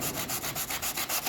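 Hand sanding of a wooden bear carving: quick, regular back-and-forth rasping strokes, close and bright, about eight per second-and-a-bit, rubbing steadily with no voices.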